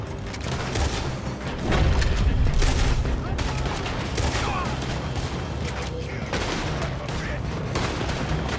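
Gunfire in the Western video game Red Dead Redemption, loud bursts and repeated shots layered over a dense, continuous battle din with crackling fire and someone talking now and then.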